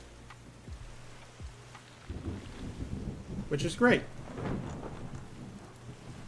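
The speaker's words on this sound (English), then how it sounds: "I need to wait for the rain to be more effective" A video game ecosystem where a polluted wasteland is turned green, with rain pattering and a deep roll of thunder building in the middle, fairly soft overall; someone speaks briefly over the storm.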